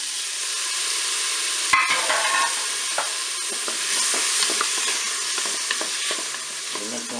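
Gambas and mussels cook in a Cookeo multicooker, giving a steady sizzle with occasional stirring clicks and scrapes, close and fairly quiet, with no talk.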